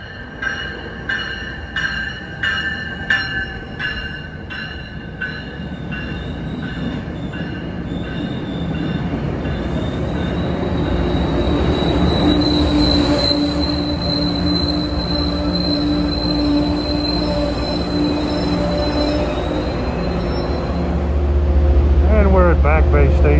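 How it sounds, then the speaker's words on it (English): Amtrak Acela Express train 2173 accelerating near Boston's Back Bay Station, with a steady roaring rumble, squealing wheels and a rising, tonal motor whine building over the passage. "Acela Express train 2173 bound for New York"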